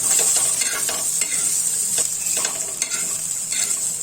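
Peanuts and green chilies stir-fried in hot oil, a steady loud sizzle broken by frequent scraping stirs of a spatula, close and continuous with no voices.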